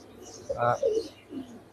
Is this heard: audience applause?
no